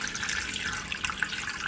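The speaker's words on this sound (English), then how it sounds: "we will pour in the water" Water from a cup poured into an Instant Pot down the side beside a beef chuck roast, a steady close splashing trickle with no talking.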